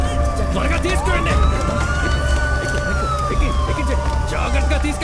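An ambulance siren wailing steadily in a busy outdoor scene, its rising and falling tone running through the clip amid crowd noise and people talking.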